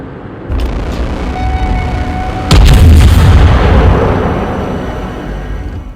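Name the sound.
battleship naval gunfire in World of Warships video game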